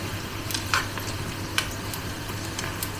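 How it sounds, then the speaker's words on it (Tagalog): Vegetables fry in oil in a pan, a continuous close sizzle broken by several sharp scrapes and clinks of a utensil stirring against the pan, with no talk. "Kasi hinahalo ko siya sa mga gulay-gulay. Para hindi ako masyadong mag-ano sa mantika."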